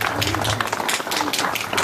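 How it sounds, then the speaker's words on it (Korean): A crowd applauding at a literary award ceremony, a dense, continuous wash of clapping throughout with voices mixed in underneath. "큰 박수를 부탁드리겠습니다"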